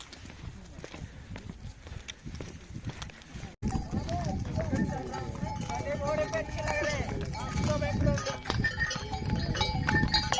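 Horse and donkey hooves clop steadily on a stone mountain path on the trek to Tungnath temple, a continuous close, uneven patter of hoofbeats with voices murmuring in the background.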